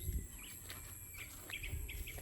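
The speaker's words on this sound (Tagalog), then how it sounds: "Yan mga ibon na masaya." Small birds chirp and call in a forest, with short, thin repeated notes at moderate distance over a faint background hum.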